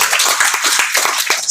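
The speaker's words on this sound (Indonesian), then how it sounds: "Tepuk tangan dulu." A group at a social rehabilitation hypnosis session claps hands together in a short, brisk burst of rapid, fairly loud claps.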